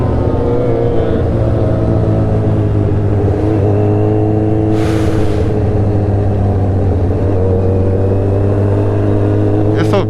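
A Ducati Monster motorcycle engine drones steadily and loudly close by during a ride on a scenic back road. Its pitch sweeps midway as it passes, over constant rushing wind.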